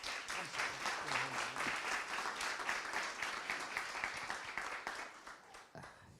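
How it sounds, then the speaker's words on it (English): A crowd at a public community meeting about a police arrest gives sustained, fairly distant applause that fades out toward the end before a voice begins. "Give him a warm round of applause."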